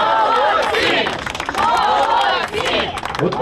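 A crowd of spectators claps and cheers at a tram-pulling record, where men haul three tram cars. The applause is dense and sustained, with a steady wash of clapping and crowd noise throughout.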